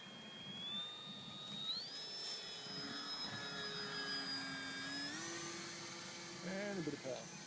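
RC foam aircraft with an electric motor powering up in flight, a steady high whine that climbs in pitch around two seconds and again near five seconds, heard at moderate distance with faint talk and outdoor background.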